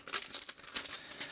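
Savage Crucible trading card pack wrapper crinkling and crumpling up close as it is opened, in a few quick bursts of crackly plastic noise.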